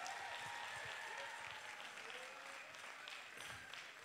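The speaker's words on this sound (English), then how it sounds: "Come on, let's give them a rousing round of applause." A concert audience applauds a band in a faint, distant and steady wash of clapping that holds for several seconds, with a voice under it.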